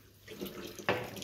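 Water runs briefly from a tap, a soft hiss that swells into a sharper splash near the end, close by and alone.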